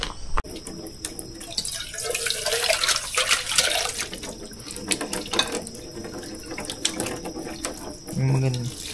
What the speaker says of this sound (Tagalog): Okay, hugas muna tayo nito.